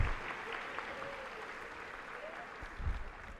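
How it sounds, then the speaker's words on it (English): At an eighth-grade moving-up ceremony, an audience claps for scholar athletes and PE students, a faint, distant, even patter of hands over a few seconds with a low thump near the end. "Let's give all of our Scholar athletes and PE students a round of applause."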